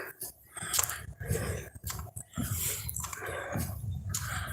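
Heavy, labored breathing during a morning walk, with close, uneven huffs and puffs in irregular bursts right at the microphone.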